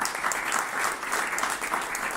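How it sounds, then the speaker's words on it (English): An audience claps after a data science and AI talk, steady dense applause throughout, fairly loud and close, with no voices on top. "So first of all, a big applause to Alberto."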